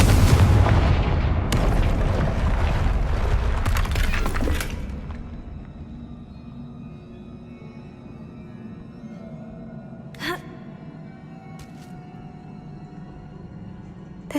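A Confringo blasting curse detonates in Hogwarts Legacy, opening with a loud, heavy boom and rumbling debris over the first few seconds. It then fades to a quiet hum broken by a couple of sharp distant cracks.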